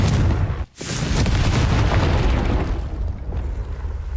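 A Confringo fire spell explodes in the Hogwarts Legacy game, a loud, dense burst that cuts out for a moment and then rolls on as a long rumbling roar.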